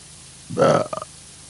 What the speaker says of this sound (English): Pardon me, I burped and it was fucking glorious.